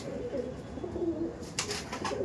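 A Kalshira pigeon coos softly at close range, a low rolling call repeated over faint background hiss.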